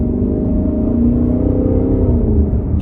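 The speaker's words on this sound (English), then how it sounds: "Boy, the sound of this car is just incredible." Lexus LC 500 engine accelerating, a loud, steady, smooth growl that climbs in pitch as it builds, heard from inside the car with no talking.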